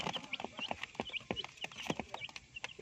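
Chickens and young chicks cluck and peep in a close, busy cluster under a warm brooder lamp, with overlapping short calls and no talking.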